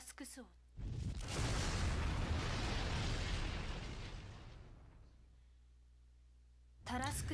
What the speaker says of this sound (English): A loud explosion roared from the engine room as the attack found its mark.